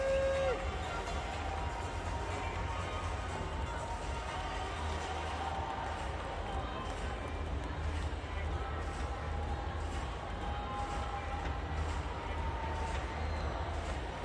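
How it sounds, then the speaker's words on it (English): Loud stadium crowd at a Para Athletics final, a section near the 200-metre start chanting and cheering a French runner's name amid heavy French and Ukrainian support, a dense continuous roar throughout. "Very loud section just by the 200-meter start, chanting for Francois Elie."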